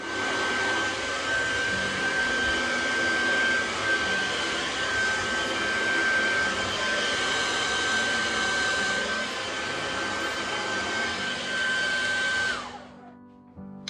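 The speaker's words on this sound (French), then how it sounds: "je vais utiliser mon sèche-cheveux pour sécher avec plus de volume" A hair dryer blows with a loud, steady whooshing roar and high whine for about twelve seconds, then switches off and winds down.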